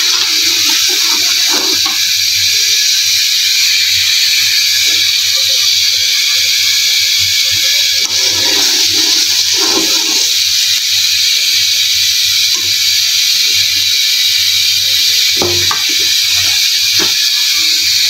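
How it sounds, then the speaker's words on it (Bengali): Dishes are washed under a running tap, a steady broadband rush of flowing water holding through the whole stretch with scattered clinks and knocks of crockery rising now and then close by. "এদিকে বাসন টাসনও মাজতে হবে অনেক"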